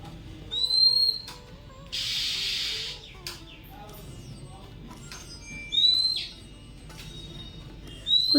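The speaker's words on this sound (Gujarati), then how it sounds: "એક જ પક્ષીના ગળામાં અલગ અલગ અવાજ છે અને અલગ અલગ અવાજથી બોલે છે" A single bird gives several separate whistled calls that shift in pitch and tone from one call to the next, moderately close, over quiet background rustle with a brief hissy burst.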